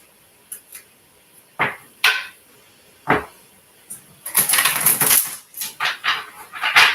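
Soft riffling and slapping of tarot cards being shuffled, in short bursts, then a longer flurry of crisp flicking, close by and otherwise quiet.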